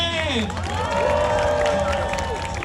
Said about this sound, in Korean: 여러분 모두 함께 박수와 함성을 부탁드리겠습니다